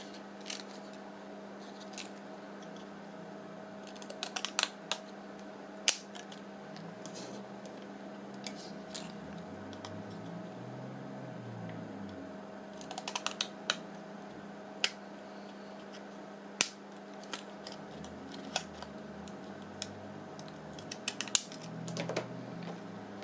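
Scissors snipping out paper for a handmade 1950s-themed journal, a series of quick, close, crisp cuts in short bursts with pauses between, fairly quiet against a steady low background hum.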